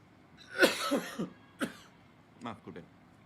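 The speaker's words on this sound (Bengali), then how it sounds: "কাশিটা বেশ চেপে ধরেছে" A few harsh coughs in a row, then a brief pause and a couple more smaller coughs, close and clear.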